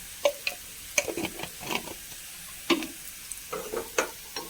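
Crushed chili hitting hot oil in a pan as a jackfruit-seed and prawn curry is cooked, giving scattered short sizzles and spoon scrapes in irregular bursts over a quiet background, with no speech.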